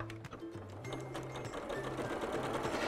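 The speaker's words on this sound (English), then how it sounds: "let's grab one more strip of floral and sew that together" A sewing machine stitches floral fabric strips together for strip-pieced patchwork, running in short start-stop bursts with a steady mechanical hum and rhythmic needle clatter up close.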